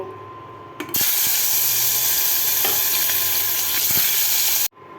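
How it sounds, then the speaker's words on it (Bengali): Snakehead (shol) fish drops into hot mustard oil in a pan and erupts into a loud, steady sizzle with a few pops and crackles. The frying cuts off abruptly after about four seconds. "তেল গরম হয়ে গেছে এখন মাছ ছেড়ে দিব"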